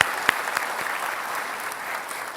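Steady applause from a debate audience welcoming two candidates fills the space, an even wash of clapping with no voices rising above it.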